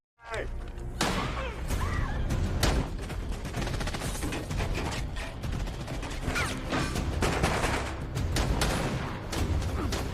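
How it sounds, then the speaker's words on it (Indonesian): Gunfire in a cartel shootout scene from the action film The Marksman, a dense continuous barrage of shots and impacts mixed with a loud film soundtrack, filling the whole stretch without a break. "kartel datang meminta Miguel dan ibunya, namun Jim tak memberikannya hingga baku tembak pun tak terhindarkan"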